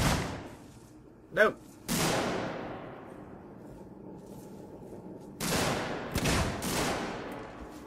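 Several gunshots fired at a door in the video game Alien: Isolation: sharp, loud blasts with a ringing decay, one near the start, another a few seconds later, then a cluster of shots toward the end, with a brief spoken word between.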